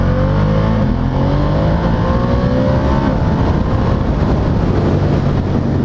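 A Ducati Diavel 1260S motorcycle engine revs hard and accelerates through the gears, a loud continuous roar with rising pitch sweeps and steady wind rush at speed.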